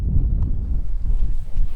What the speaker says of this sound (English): When the wind picks up, it hits sand against.